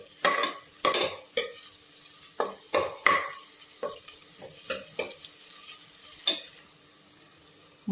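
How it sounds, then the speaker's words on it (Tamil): Green chillies and curry leaves sizzle in hot oil while a spoon scrapes and stirs the pan in irregular strokes, close up and with no speech. "அதையும் சேர்த்து நல்லா வதக்கி விட்டுக்கலாம்"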